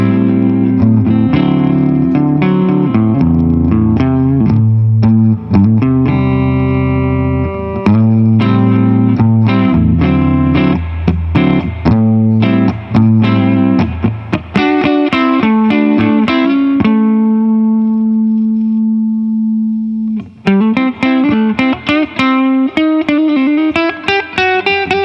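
A Godin XTSA electric guitar played through effects units, with distortion, chorus and echo on sustained chords and picked notes, loud and continuous throughout, with a brief pause in the phrasing near the end.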